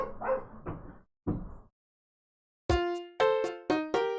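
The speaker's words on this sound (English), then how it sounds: "The dog is trying to tunnel into my room." Dog in the Tex Murphy: Under a Killing Moon game scratching and thumping at a door, followed by a run of short, sharp, high whimpering yips, close and fairly loud.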